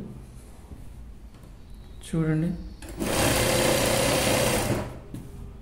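Sewing machine stitching along the edge of a boat neck dress with thread piping, a short burst followed by a longer, loud steady run that stops abruptly, close by with faint room sound around it.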